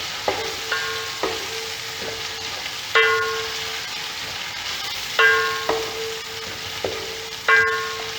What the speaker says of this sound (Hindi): अब हम इसमें डालेंगे लहसुन, अदरक और हल्दी का पेस्ट।